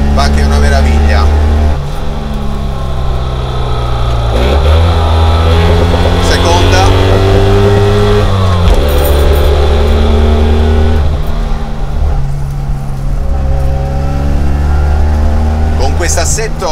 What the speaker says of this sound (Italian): Sono di terza e sto salendo in questa strada di montagna senza problemi.